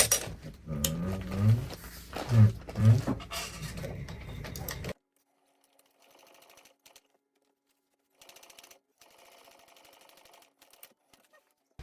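Sewing machine top stitching a fabric bag panel, a close mechanical whir with low thumps for several seconds, then near silence broken by faint, brief stitching runs.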